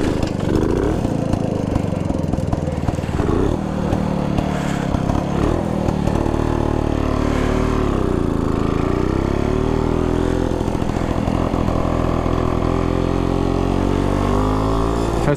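A Jawa 250 motorcycle engine turns over and settles into a steady, rumbling idle, close by and continuous, with faint clatter throughout.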